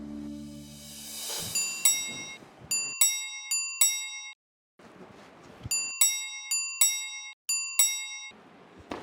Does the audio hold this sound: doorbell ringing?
yes